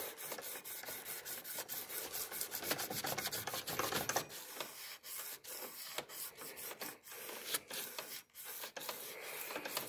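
A knife blade is rubbed back and forth on a homemade sharpener to remove file scratches, giving close, rhythmic rasping strokes that vary in loudness, with no talking.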